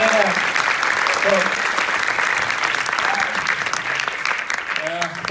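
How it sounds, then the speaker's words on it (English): Sustained audience applause for a film team at a film club event, a dense, even roar of clapping throughout, with brief voices breaking through now and then. "So give a round of applause for the whole team."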